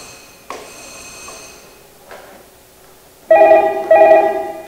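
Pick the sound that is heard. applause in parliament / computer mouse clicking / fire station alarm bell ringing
fire station alarm bell ringing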